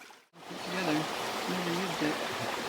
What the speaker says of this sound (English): we just crossed a little clear run that I think is our best chance to get water